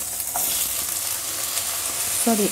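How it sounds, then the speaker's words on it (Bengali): Potatoes fry in a pan with a quiet, even hiss of oil, and a brief clink of the utensil near the end. "আলুটা ভেজে নিচ্ছি"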